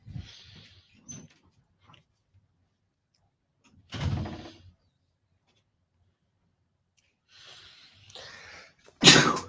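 Short sounds break a mostly quiet room, then a loud, sharp sneeze bursts out at the very end, close by.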